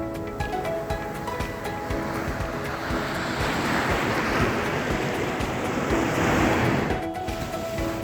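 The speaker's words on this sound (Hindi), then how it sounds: "उसमें आगे बढ़ते ही हमारा सामना समंदर की लहरों से हो गया।" Ocean waves at Kovalam Beach in Kerala, a continuous rushing surf that swells louder toward the end, with wind across the microphone and a faint tonal hum underneath.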